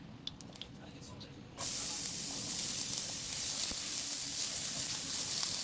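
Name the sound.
garlic sizzling while sautéing for spaghetti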